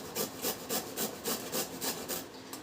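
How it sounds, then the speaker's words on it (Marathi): Beetroot is rubbed against a grater in quick, even back-and-forth strokes, about nine rasping passes, close and moderately loud with no talk. "आता याच्यामध्ये आपल्याला लागणार आहे बीट जे बीटरूट आपल्याला मिळतं ना ते लागणार आहे तर हे जरासं किसून घ्या"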